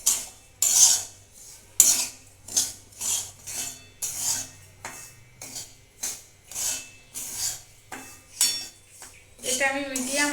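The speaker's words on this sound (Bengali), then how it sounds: "ঘিতে আমি সুজিটা দিয়ে দিচ্ছি। এটা আমি কিছুক্ষণ ভেজে নেব।" Semolina frying in ghee is stirred in a pan, making a steady series of scraping, rasping strokes about once a second, with a voice talking briefly near the end.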